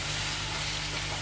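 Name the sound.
peas frying with spices in pan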